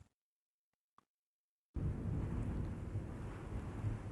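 After a near-silent opening with a couple of faint ticks, a low storm rumble of distant thunder with wind and rain noise swells in suddenly and rolls on steadily to the end.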